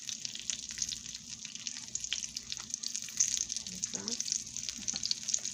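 Southern fried sweet potato pies made with canned biscuit dough sizzle steadily in hot frying oil, a close, continuous crackle and spit. A brief spoken word and faint handling sounds come through over it.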